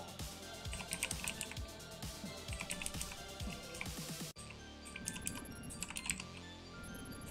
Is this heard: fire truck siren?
no